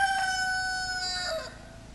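A rooster crows once, loud and close, its drawn-out call trailing off into quiet farmyard background with no voices.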